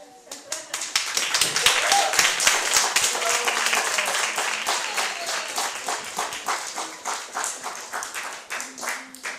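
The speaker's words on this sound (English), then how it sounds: "can we please welcome him with the great round of applause" An audience gives a round of applause to welcome a speaker, dense clapping that swells quickly and stays loud before thinning out toward the end.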